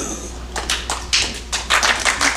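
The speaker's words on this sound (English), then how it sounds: "I want all 7 of us to clap" Sparse clapping from a tiny audience of about seven people at a comedy show, a handful of uneven hand claps close by with no voices.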